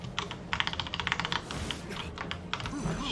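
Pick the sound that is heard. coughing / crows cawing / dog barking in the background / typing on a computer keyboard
typing on a computer keyboard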